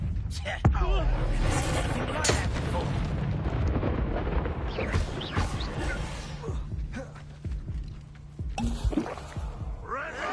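In Hogwarts Legacy, a cast Incendio fire spell erupts in bursts of roaring flame and booming impacts amid ongoing combat noise, while voices talk over the action.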